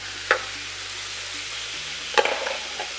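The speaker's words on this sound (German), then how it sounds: "Und jetzt geben wir unser Fleisch dazu." Chicken meat goes into hot oil on a Tefal OptiGrill and sizzles steadily, with a couple of sharp scraping stirs standing out over the continuous frying hiss.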